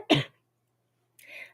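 Two single coughs, one sharp and close at the start and a second rougher one after a short silence, with no speech around them.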